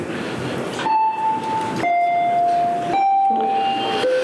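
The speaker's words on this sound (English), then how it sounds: "That was the warning bell." A high school warning bell rings as a run of steady electronic tones, each held about a second before shifting pitch, loud and clear with no talk over it.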